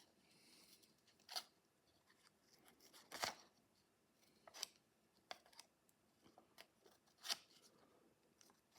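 Small paper-cutting scissors make a series of short, crisp snips at irregular intervals, close and fairly quiet, cutting fine hair shapes from paper for a simple lever mechanism craft.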